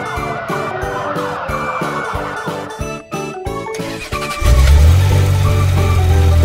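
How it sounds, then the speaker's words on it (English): A red fire truck's siren wails loudly over a rhythmic backing track, shifting after a few seconds into a steady, blaring tone with engine rumble underneath, and no one speaks. "Red fire truck."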